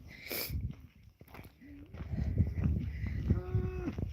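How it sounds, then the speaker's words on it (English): Several cows low and moo close by, one long drawn-out call near the end, with shuffling hooves and rustling around them. "The cows are here, and the cows are unhappy because they want me to feed them."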